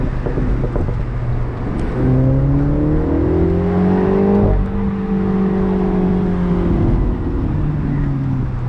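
A Mini Cooper JCW convertible's engine revs and changes pitch as the throttle is applied and released, loud and close, with engine tone rising and falling and little clear popping.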